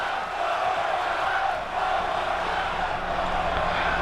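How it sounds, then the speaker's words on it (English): A wrestling crowd at a main event match chants in a steady, droning roar with a slight swell and dip, loud and continuous throughout. "Crowd chanting one more time."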